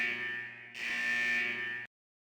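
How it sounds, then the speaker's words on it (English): Harsh electronic test-ending buzzer from the video game Persona 4 Arena Ultimax, starting abruptly, holding steady and loud for about a second, then cutting off cleanly into silence. "The buzzer signaling the test finally ends."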